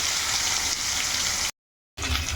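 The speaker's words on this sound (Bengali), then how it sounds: "আমি মাছটা একটু কড়া করে ভেজে নেব।" Hot oil sizzles steadily as fish fries crisp in a pan, a loud crackling hiss with a brief break of silence.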